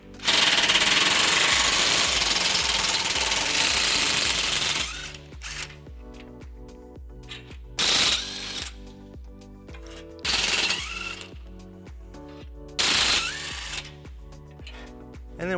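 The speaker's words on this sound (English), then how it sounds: "we're gonna remove them using a 14mm socket" Power tool driving a 14mm socket to remove the bolts of a bumper horn bracket on a 2017 Fiat 500: a loud sustained whir for several seconds, then short separate bursts between pauses and clatter.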